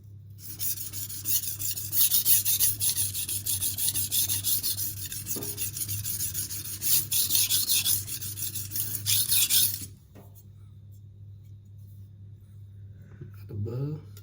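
Knife blade scraping in steady strokes on a Venev resin-bonded diamond stone, close and raspy for about ten seconds before stopping, followed by a quiet pause with a low hum.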